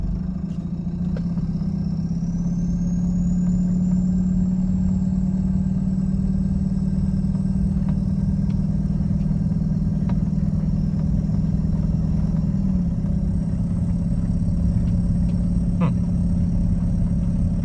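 Volkswagen Jetta TDI diesel with a hood-stacked setup, heard while driving as a steady low drone of engine and road noise that holds level throughout, with a faint rising whine and no speech.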